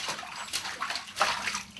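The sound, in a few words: baby's bath water in a big tub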